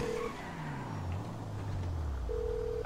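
A phone call being dialed in GTA V Online gives a steady electronic tone at the start and again near the end, with a low engine hum and tire noise running throughout.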